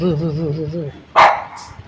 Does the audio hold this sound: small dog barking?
yes